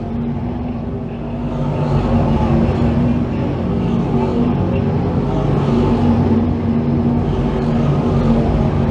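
Race cars on an oval track in a sportsman feature pass down the straightaway, a loud continuous engine roar that swells and holds steady, heard from close by.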